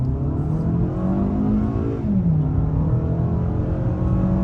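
A 2023 Toyota Camry LE accelerates hard with its engine droning loud and steady, and the pitch climbs, drops at a gear change and then rises again, with no one speaking.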